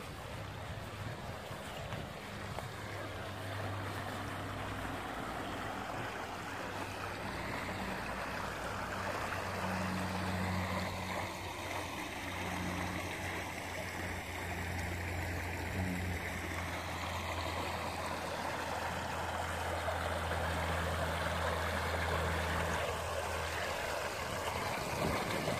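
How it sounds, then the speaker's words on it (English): Fast-running stream water rushes steadily and broadly outdoors at a fishing spot, a continuous close wash of water mixed with some wind buffeting on the microphone, with no talking. "This water's running a little bit fast, really."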